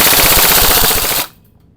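A WE M4 CQB airsoft rifle fires a rapid full-auto burst, loud and close, a fast even rattle lasting just over a second before stopping abruptly.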